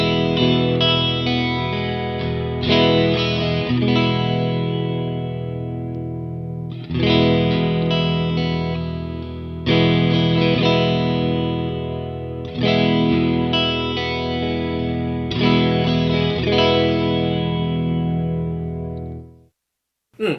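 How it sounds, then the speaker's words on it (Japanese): Guitar played through a Free The Tone Tri Avatar TA-2H chorus pedal, ringing chords strummed in several sustained phrases, with a strong dry tone and a subtle shimmering chorus behind it, ending in a quick cutoff. "その後ろでしっかりコーラス音が鳴っております。"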